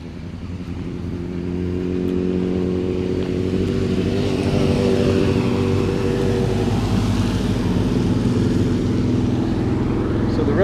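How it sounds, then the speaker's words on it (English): Motorbikes ride along the damp Tail of the Dragon mountain road, US129 at Deals Gap, with a steady engine drone that swells as they approach and holds loud for several seconds. "Here comes some guys on some bikes now."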